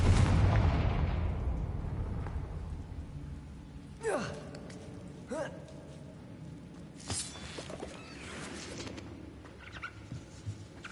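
The Confringo blasting spell in Hogwarts Legacy goes off as a booming explosion whose rumble fades away over a couple of seconds, followed by quieter whooshing magical effects and scattered pops.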